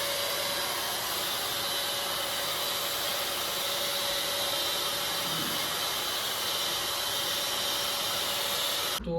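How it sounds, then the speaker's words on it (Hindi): A hair dryer heats the adhesive tape of an action-camera chin mount on an Axor Street helmet, giving a steady, close, broadband whooshing hiss that holds evenly for about nine seconds before cutting off, with no talking. "और अभी हम लोग इसको थोड़ा सा हीट अप करने वाले हैं, जो कि हम लोग हेयर ड्रायर से करेंगे।"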